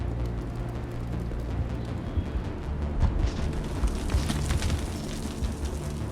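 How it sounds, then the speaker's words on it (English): Gunfire rumbles through a Mass Effect battle against the Geth in a colony, a dense, continuous wash of shots and booms with sharper cracks clustering toward the end, steady and fairly loud with no voices. "How is a woman supposed to think with guns going off all around?"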